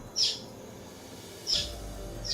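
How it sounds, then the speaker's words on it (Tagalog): A bird calls from above in three short, high chirps spaced about a second apart, faint against a quiet, steady background. "Yun ang ibon sa taas, narinig niyo?"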